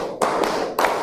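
A primary classroom of pupils clapping together on a teacher's count, three sharp group claps spaced unevenly within about a second, with no voices.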